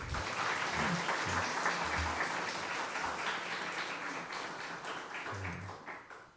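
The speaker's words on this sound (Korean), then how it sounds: "격려의 박수 한번 해주시죠" A church congregation applauds in encouragement during a Sunday sermon, with steady, dense clapping that fades gradually and a low murmur underneath.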